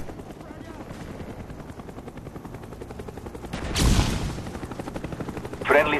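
A Cobra attack helicopter in a Call of Duty: Black Ops multiplayer match thrums with a steady rotor chop beneath game noise, while a loud burst of gunfire or an explosion cuts in midway and another sharp hit lands near the end.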